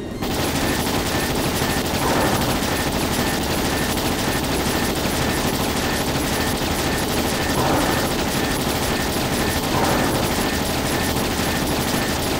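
Ships open fire with cannons in the video game Trails in the Sky SC, a dense, continuous barrage of booming volleys filling the clip with a few heavier bursts, loud and sustained over music.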